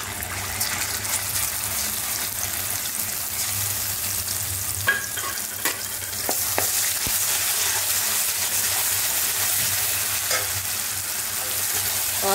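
Poppy seed paste fries in hot oil for a ridge gourd and potato dish, making a loud, dense, continuous sizzle with a watery, bubbling edge. Brief stirring scrapes and clicks sit on top. The sound is close, with no talking.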